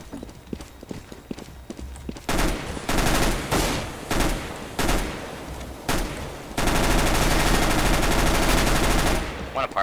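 Video game gunfire crackles in short bursts, then settles into a long sustained stretch of rapid automatic shots, loud and close, with quieter scattered clicks and footsteps before it starts.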